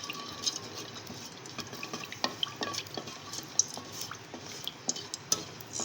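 Whole spices dropped into hot oil for aloo qeema, a soft sizzle broken by light clinks and scrapes of a spoon against the pot, close and fairly quiet.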